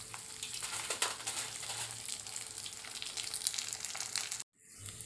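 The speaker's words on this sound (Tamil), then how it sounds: "ஒரு கடாயில் எண்ணெய் வச்சுட்டேன்." Onion pakoda vathal fries in hot oil in a kadai with a dense, continuous sizzle and bubbling crackle up close. A short sharp dropout comes near the end before the frying resumes.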